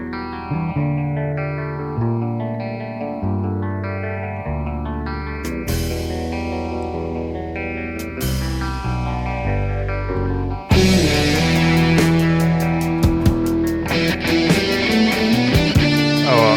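Heavily effected, synth-like bass guitar lines with chorus and distortion slide and shift through a song, growing fuller and busier with drums in the second half.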